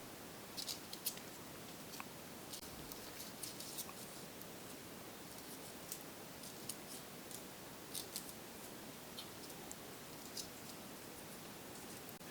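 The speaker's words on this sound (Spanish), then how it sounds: "Luego tomas la hoja de papel y cortas un pedazo." Scissors snip through a sheet of paper in a quick run of crisp, light cuts, close and quiet over a soft hiss, with no talking.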